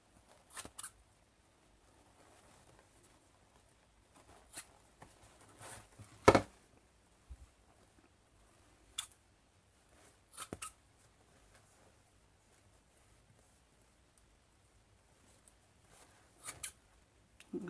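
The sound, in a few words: scissors cutting through material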